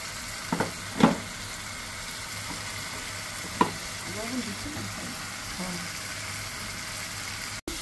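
Cumin paste and ground black pepper hitting a hot pan for chicken curry, giving a faint steady sizzle with a few light clicks of stirring, and no talking.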